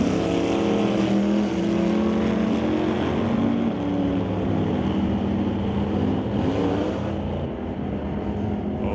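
Drag race cars, a Barracuda against a Chevy II, launching at a strip; a loud, sustained roar of big engines that builds and holds, then eases slightly as they pull away.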